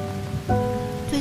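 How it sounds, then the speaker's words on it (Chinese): Steady rain pattering down with a low rumble of thunder in The Sims 4 video game, under soft game music, with no talking. "怎么又下雨了？ 怎么又打雷了？"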